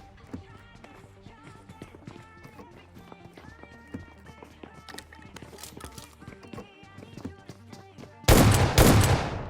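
Running footsteps pound in a video game, then an S12K shotgun goes off in a single loud, harsh blast near the end, close and dominating the mix.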